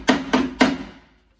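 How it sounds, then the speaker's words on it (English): A hammer taps the metal body of a rusty 1955 Volkswagen Beetle Oval during a DIY repair: three sharp, evenly spaced knocks, each with a short metallic ring that fades, then quiet. "We'll check it with a hammer."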